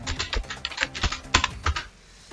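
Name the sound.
typing on a computer keyboard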